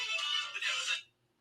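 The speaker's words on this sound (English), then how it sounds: "She's gonna love that ringtone." A mobile phone ringtone playing the James Bond theme rings out briefly and fairly loud, then cuts off into near silence.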